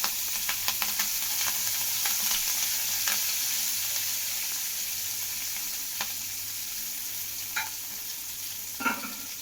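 Tempering spices with asafoetida, curry leaves and coriander crackle and sizzle steadily in hot oil, with a few scraping stirs of a spoon against the pan.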